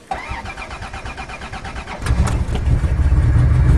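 A caravan engine cranks and fires on a cold start after sitting unused since the previous autumn, starter whirring first, then catching at about two seconds into a loud, steady idle close by.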